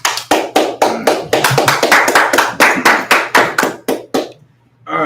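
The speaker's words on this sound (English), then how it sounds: "Let's clap it up for the Most High" A congregation at a Sabbath service claps in a loud, sharp, evenly spaced rhythm of about a dozen beats, slowing and stopping near the end.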